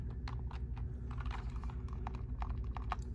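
Fingers tap on a computer keyboard in a quick, irregular run of light clicks, close to the microphone over a steady low hum, with no speech.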